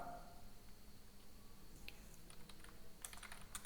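Quick keystrokes on a computer keyboard as a conda command is entered in a terminal, faint and close, a short burst of clicks toward the end after quiet background hiss.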